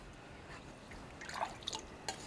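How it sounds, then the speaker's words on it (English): Water drips onto a knife resting on a whetstone during sharpening: a few faint, scattered droplet plinks over a quiet background. "We always like to keep the knife well lubricated with tons of water."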